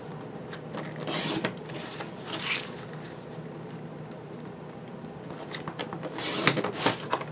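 Scissors cutting through card paper to trim an artist trading card to 2.5 inches, a few soft close snips and rubbing sounds in short bursts, with no talking.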